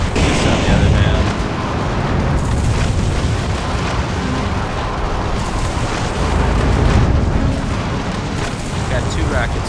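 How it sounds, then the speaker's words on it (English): Rockets fired in the Metal Wolf Chaos video game, a loud continuous roar of blasts and booms filling the whole stretch, with a stronger burst near the start. "Got 2 rockets for each of you guys"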